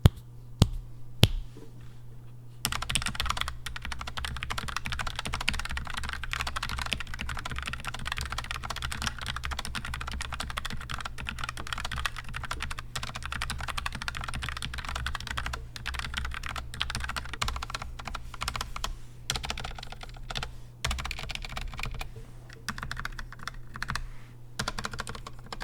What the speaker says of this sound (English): This also has brown switches on them, so the typing experience was definitely an A+ on my end.